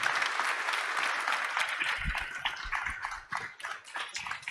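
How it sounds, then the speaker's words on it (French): Applause from an audience greeting the panelists at a youth-participation panel, a dense burst of clapping that fades toward the end, with no talking. "il faut donner une bonne main d'applaudissement à nos panélistes"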